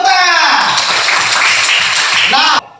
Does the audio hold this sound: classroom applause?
yes